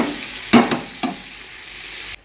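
Chicken kosha is stir-fried in a pan, with a low sizzle under a few sharp scraping strokes of a spatula against the metal before it cuts off.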